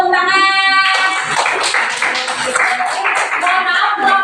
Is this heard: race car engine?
no